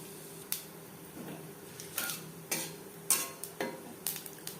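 Whole cumin seeds frying in a little mustard oil for a vegetarian cauliflower-leaf bhorta, with a faint steady sizzle and scattered light crackles and spatters popping at close range.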